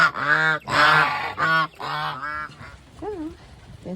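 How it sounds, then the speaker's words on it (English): Farm fowl call at morning feeding time on a small farm, with loud, nasal, honking cries coming in close bursts, then fainter, wavering calls trailing off. "So, there's the chickens."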